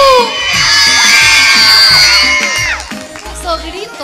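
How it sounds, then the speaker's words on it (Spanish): Schoolgirls from a school promotion event shouting and screaming together in a loud, sustained cheer. It rises quickly, holds for nearly three seconds, then fades into scattered voices. "Esos gritos, chicas, como tanta power que tienen ellas"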